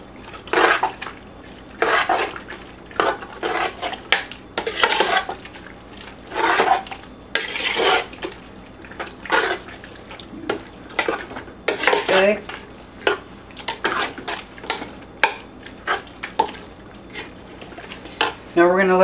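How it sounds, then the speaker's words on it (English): A spoon stirs eggplant bharta with cilantro in a pot, producing a series of close, irregular scraping and clinking strokes against the metal, each separated by short pauses, over a faint background sizzle. "Give this a good stir."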